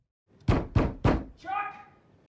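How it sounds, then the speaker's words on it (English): Three firm, heavy knocks on a front door in a Better Call Saul scene, evenly spaced and loud, followed by a voice speaking right after. "Doesn't have to break in, he's knocking."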